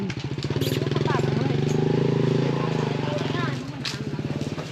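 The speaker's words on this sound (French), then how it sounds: "un moto-charrette." Chugging single-cylinder motor of a moto-charrette, a motorcycle cart on a rural road in the Laotian countryside near Luang Prabang, running steadily close by and loud, with people talking over it.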